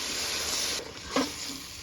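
Bengali spice paste sizzles steadily in a pan for Chapila fish bhuna, with a brief stir and a small splash as tomatoes go in near the end, close and fairly quiet.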